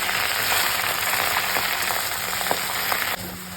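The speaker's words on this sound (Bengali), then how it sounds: "করে ধুয়ে রাখা খারকোল পাতাগুলো আমি দিয়ে দিচ্ছি। সবগুলো দিয়ে দিলাম, নাড়াচাড়া করে নিচ্ছি।" Kharkol leaves with nigella seeds and green chili frying in a pan, a steady close sizzle with occasional soft stirring scrapes and a slight drop in intensity near the end.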